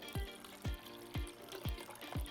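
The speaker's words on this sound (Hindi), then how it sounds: "थोड़ा और ठंडा पानी, क्योंकि अभी भी ये थोड़ा गुनगुना गर्म है" Cold water is poured into chena, fresh curdled milk cheese, while making thandai rasmalai. It comes as five evenly spaced, gurgling glugs, soft and close, with no voices.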